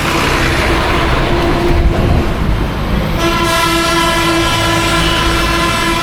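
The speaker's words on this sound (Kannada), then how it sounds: "ನಾನು ಯಾವುದೋ ಟ್ರೈನ್ ಬಂತು ಅಂದ್ಕೊಂಡೆ, ನೋಡಿದ್ರೆ ಬಸ್ಸು." A bus horn near a temple in Kumbakonam, Tamil Nadu, sounds much like a train horn. A loud, sustained tonal blare starts partway through and holds over a dense roar of road noise until the end.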